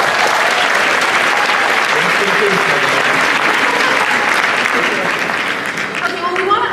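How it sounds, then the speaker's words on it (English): Audience at a Comic-Con panel applauds steadily and loudly throughout, a dense wash of clapping with crowd murmur, tapering slightly near the end. "Should we get a round of applause for him?"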